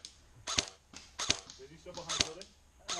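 An airsoft gun fires during an outdoor skirmish game, giving about five sharp snapping shots spaced unevenly close to the microphone. A voice talks quietly between the shots.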